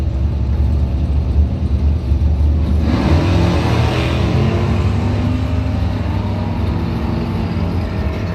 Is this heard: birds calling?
no